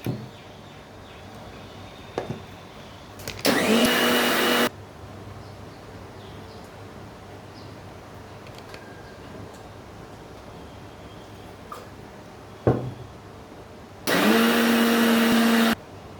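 A mixer grinder grinding masala paste fine, two loud steady whirring bursts of about a second and two seconds, separated by a long quiet stretch with faint clicks and a sharp knock.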